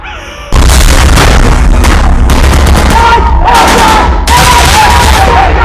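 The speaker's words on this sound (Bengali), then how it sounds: "আমি ওদিকে গুলি করতেছি, মুক্ত ওদিকে যাইস না।" Staged gunfire during a Bengali stage play, heard as loud, dense bursts of bangs and booms that run almost without pause, mixed with crowd noise and shouting.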